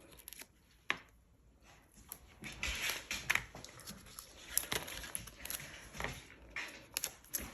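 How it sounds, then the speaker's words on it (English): A dog at home scratches and plays with a toy during card making, giving irregular rustling, scraping and tapping bursts close to the microphone, with no talking. "The dog's got his favourite toy out now and he's just having a scratch"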